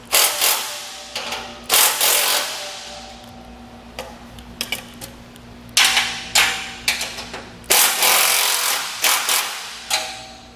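A power tool with a 14 mm socket backs out the top bolts from the center channels of a Malone MegaSport heavy boat two-tier trailer. Close, loud bursts of whirring and ratcheting start and stop repeatedly, with no talking.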